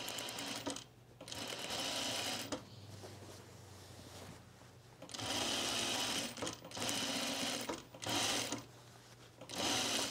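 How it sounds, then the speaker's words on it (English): A sewing machine runs an easing stitch around the neckline of a men's tropical shirt, its steady motor whir coming in several close bursts separated by short pauses. "We're going to put that easing stitch in this neckline right now"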